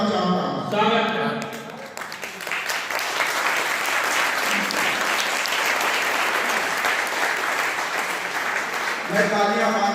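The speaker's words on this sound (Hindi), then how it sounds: "मैं तालियां मांगता नहीं हूं लेकिन बहुत कमजोर तालियां हैं" A crowd claps at an outdoor poetry gathering (kavi sammelan) at a school, a dense burst of applause rising after a voice and holding steady for several seconds before his speech returns over the fading claps.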